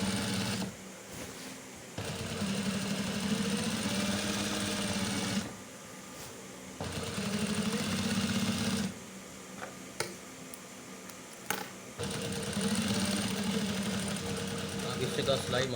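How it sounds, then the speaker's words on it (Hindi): A sewing machine runs in steady bursts while stitching the center of a men's kameez collar, with pauses between runs and a voice talking over the hum. "अब कॉलर के बिल्कुल दरमियान वाले हिस्से पर सिलाई सफाई से लगानी है"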